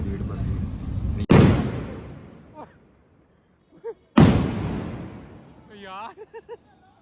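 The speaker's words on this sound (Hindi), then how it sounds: "गलियों में लोग पटाखे बजा रहे हैं" Two loud, sharp firecracker bangs in the streets on New Year's night in Italy, a few seconds apart, each trailing into a rumbling echo, with brief voices between and after.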